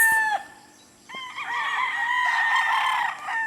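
A Boston White gamecock rooster crows nearby on a farm, with a short call, a brief pause, then a long, loud, drawn-out cock-a-doodle-doo that holds steady before it tails off.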